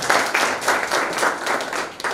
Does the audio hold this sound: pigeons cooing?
no